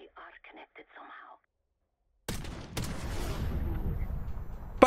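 A single loud sniper rifle shot in the Call of Duty Black Ops 6 campaign cracks out after a moment of silence, its report rolling into a long echoing tail, preceded by brief faint speech.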